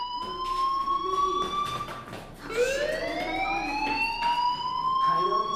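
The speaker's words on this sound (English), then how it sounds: "Hey, do you hear that fire alarm?" A fire alarm in the video game Life Is Strange wails with a steady rising electronic tone that repeats, loud and close, under faint background noise.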